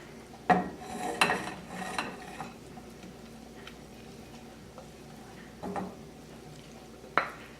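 Diced pork chunks tipped into a stew pot of creamy gravy, giving a few clattering knocks and scrapes of utensil against pot, with scattered quieter clinks in between and no talking.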